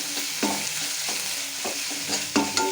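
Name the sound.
ginger garlic chili paste frying and stirred with onions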